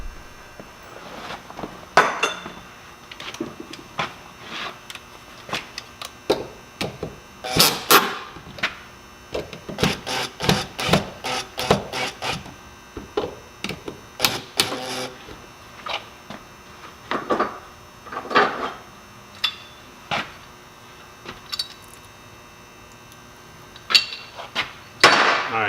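Metal air line pipe fittings being taken apart in a workshop, giving a long run of sharp clanks, knocks and scraping taps at irregular intervals, close and fairly loud with no talking.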